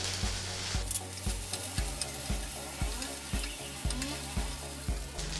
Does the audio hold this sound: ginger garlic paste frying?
yes